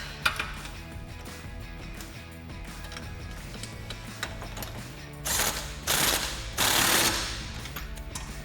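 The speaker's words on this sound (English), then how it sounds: "we can tighten this a little loosely and then fully tighten everything when we get it back down on the ground" A ratchet clicks steadily on the track bar bolts of a Jeep Wrangler JK fitted with a Teraflex forged adjustable front track bar, then gives several louder, faster bursts of clicking close by.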